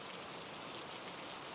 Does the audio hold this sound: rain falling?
yes